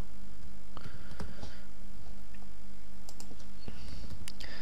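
Quick, irregular clicking of computer keyboard keys in short bursts, close and fairly faint over a steady background hum.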